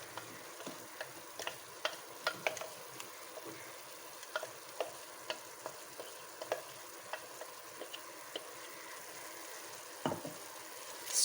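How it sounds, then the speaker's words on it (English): Vegetable pulao with added paste being stirred in a pot, a steady faint sizzle broken by regular soft scrapes and taps of a spoon against the pot, with no voices. "Give it a good stir."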